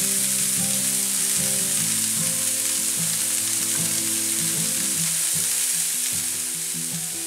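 Garlic fries in a pan for paella with a loud, steady sizzle, heard up close and alone. Low clinks and stirring noises rise and fall under the hiss.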